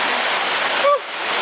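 A small waterfall on a rocky river in Martinique, a continuous broadband rush of falling water that fills the scene at close range, with a brief faint squeak near the end.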